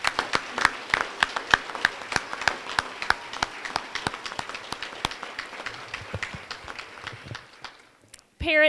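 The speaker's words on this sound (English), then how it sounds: "Let's give all of these great students another round of applause" An audience claps for students at a school awards assembly, a crisp run of separate claps close by that thins out near the end.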